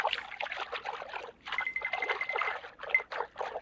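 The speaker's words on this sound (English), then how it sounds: "Sounds like something splashing in the water." Irregular splashing and sloshing of water in quick bursts, with short pauses between them, fairly close and moderately loud.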